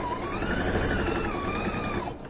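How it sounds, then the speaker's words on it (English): A sewing machine stitches steadily along a napkin seam, a continuous close whirring hum with a rising and falling motor tone that runs for about two seconds before slowing at the end. "And I just sew clear off to the end."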